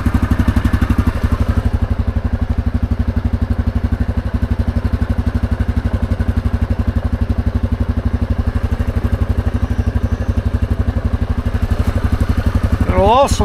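A motorcycle out on its first ride of the year after a clutch job, its engine thrumming in a steady, rapid pulsing beat throughout, loud and close, with a brief squeal at the end.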